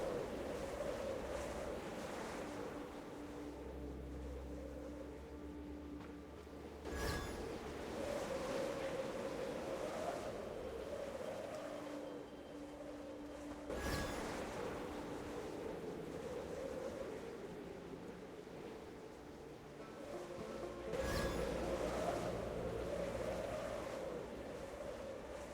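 Strong tornado wind roars steadily and loudly throughout, a dense rushing wash that swells in gusts every several seconds, with no voices over it.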